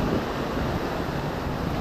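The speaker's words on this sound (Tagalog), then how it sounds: "Kita nyo naman mga katropa yung parang kalakas yung agos ng tubig." A strong river current rushes past a shallow crossing near a dam during a flood, a dense, steady roar of churning water with no voices over it.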